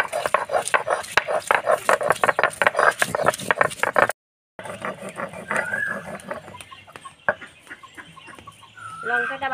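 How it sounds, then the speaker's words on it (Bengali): Green and dried chillies being ground together, with rapid rhythmic scraping strokes for several seconds before a brief break, then quieter grinding as chickens cluck nearby. "কাঁচা লঙ্কা শুকনো লঙ্কাটা একসঙ্গে বেটে নেব।"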